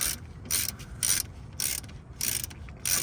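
Ratchet with a 12mm socket tightening brake caliper bolts on a 2006 Honda Accord, five quick bursts of close, loud clicking strokes separated by short pauses.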